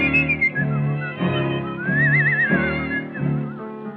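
Melodic human whistling carries a song tune in a run of phrases, with warbling trills in the middle, clear and prominent over a soft instrumental backing.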